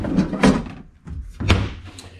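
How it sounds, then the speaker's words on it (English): A slide-out trash can drawer in a tiny house park model kitchen rolls open and shut on ball-bearing guides, with loud close thuds and sliding rumbles in a short back-and-forth sequence. "There's a slide-out trash can."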